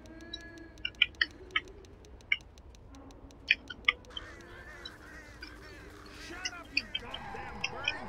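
Birds in the game Left 4 Dead: repeated sharp squawks and clicks scattered irregularly across the scene, fairly close, over low game ambience with faint voice-like sounds.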